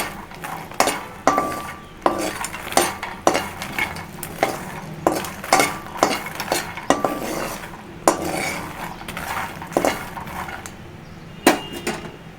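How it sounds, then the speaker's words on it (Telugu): Fox nuts (makhana, lotus seeds) being fried and stirred in a pan over a medium gas flame: a close, steady run of metallic scrapes and clinks from the spatula against the pan, repeating in an uneven rhythm with no talking. "కొంచెం ఫ్రై చేసుకోవాలండి"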